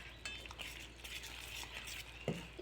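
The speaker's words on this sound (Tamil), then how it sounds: "நல்லா கட்டி இல்லாமல் மிக்ஸ் பண்ணிவிடுங்க" A whisk or spoon stirring wheat flour pancake batter with milk in a bowl, giving soft, faint, continuous scraping and swishing with a few light clinks, close but quiet, with no talking.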